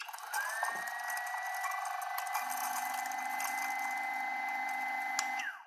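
A Timemore Sculptor 078 electric coffee grinder with a quiet brushless DC motor spins up and grinds coffee beans, a steady close whine holding for about five seconds with a brief crackle of beans before winding down.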